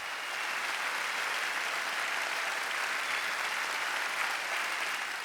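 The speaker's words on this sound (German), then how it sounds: "Mit der verdienten Standing Ovation vom Publikum für die 1000 Mitwirkenden aus 20 Ländern." A large audience gives a standing ovation at the Basel Tattoo 2025 military music show, producing an even, sustained wash of distant applause that holds steady throughout.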